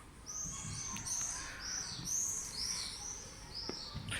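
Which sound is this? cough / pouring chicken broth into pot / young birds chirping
young birds chirping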